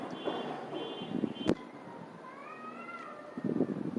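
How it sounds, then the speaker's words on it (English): A single drawn-out cat meow rises and falls, heard at a moderate distance after a sharp click, with faint background noise around it. "That's a cat."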